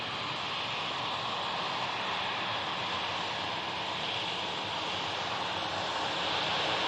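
An airplane at Manchester Airport near Heald Green gives off a broad, steady roar that holds loud and unbroken throughout, a distant jet rumble blended with wind.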